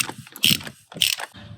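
A car oil filter being cracked loose by hand or with a tool, giving two short bursts of ratcheting, scraping mechanical noise close up with a brief pause between them and no talking.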